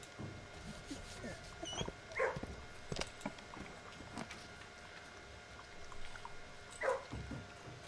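Dogs in the video game Blue Prince give a few short, distant barks and yips, spaced apart against a steady game background with faint tonal hum.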